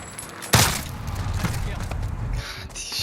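A single loud shotgun blast goes off in Modern Warfare against practice bots, followed by a lingering rumble and softer game noise as a voice speaks quietly.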